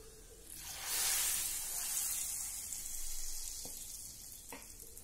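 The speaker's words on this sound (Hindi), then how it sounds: "तो अब हम इसमें 1 चम्मच कश्मीरी लाल मिर्च डालेंगे" A spoonful of Kashmiri red chili powder hits hot oil in a pan for kadhi, setting off a loud close sizzle that swells quickly, holds steady with faint stirring scrapes, then eases slightly.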